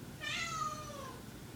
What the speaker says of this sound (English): Kitty's begging, crying.